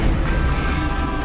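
A Confringo blasting spell exploding in Hogwarts Legacy, heard as a loud, sustained rumbling blast with crashing low-end noise across the whole short moment.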